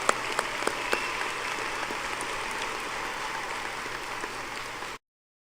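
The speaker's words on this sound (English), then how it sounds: "Give her a round of applause" Crowd applause fills a high school commencement arena after a graduating student is honored, a dense, steady wash of clapping held at an even level for about five seconds before cutting off abruptly, with no voices over it.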